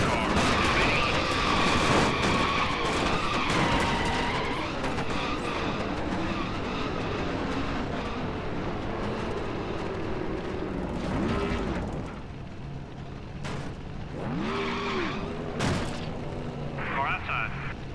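A car crash in the NASCAR Thunder 2000 racing game: dense roaring engine and grinding impact noise that stays heavy for most of the stretch, then thins out into scattered metallic squeals and bangs near the end, under a voice talking.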